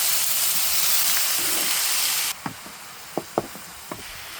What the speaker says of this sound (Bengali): পেঁয়াজটা হালকা লালচে বানানোর পর আমরা দিয়ে দেবো শাকগুলো